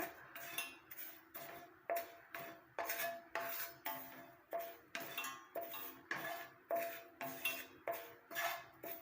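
A spoon stirs powder in a hot kadai with repeated metallic scraping and clinking strokes. The strokes come in a steady rhythm, close and clear, with no talking.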